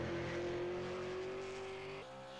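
A super late model race car qualifies at Five Flags Speedway, its engine a loud sustained high drone that holds steady and then drops in pitch as it eases off, with no voices.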